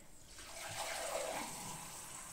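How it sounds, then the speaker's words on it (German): Water pours steadily into a measuring cup, a continuous splashing gush that builds and holds at moderate loudness, with no voices. "Und dann macht ihr da Wasser rein."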